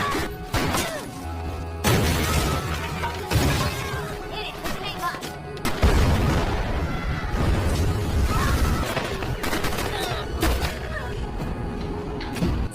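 A bomb blast in an action film, with crashing, shattering and booming bursts layered over a dense cinematic soundtrack; loud and chaotic throughout, with faint speech mixed in.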